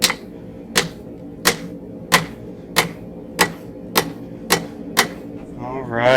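A hammer strikes hot steel on an anvil while forging a feather, nine sharp, evenly spaced ringing blows about two-thirds of a second apart, close and loud, with a short scraping sound at the end.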